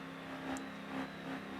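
A truck engine in a downhill driving video game revs steadily with an automatic transmission, a continuous droning whine with slight surges, heard alone without talk.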